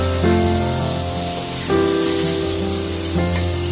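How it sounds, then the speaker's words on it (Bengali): Brinjal slices frying in oil in a pan make a loud, continuous spitting sizzle close up, with a few tonal scrapes and clinks as the pieces are turned; no voices are heard. "এক পিঠ ভাজা হয়ে গেছে, তাই আমি উল্টে দিচ্ছি বেগুনগুলোকে।"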